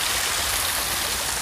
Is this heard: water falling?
yes